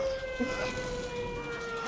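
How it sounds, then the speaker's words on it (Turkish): Police sirens wail in the video game A Way Out, a steady held tone over a busy, noisy background, continuous throughout with no speech. "Sirenleri duyuyorsun değil mi?"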